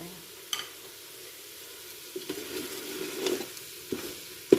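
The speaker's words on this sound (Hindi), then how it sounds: "इसे अच्छी तरह मिक्स करके 1 से 2 मिनट के लिए इसको भून लेंगे" Dry spices being stirred and fried with chicken masala for a village-style chicken soup, a soft low sizzle broken by occasional clanks and scrapes of a spoon against the pot, close by, with no speech.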